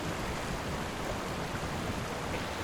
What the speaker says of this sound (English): The river is coming up really high right now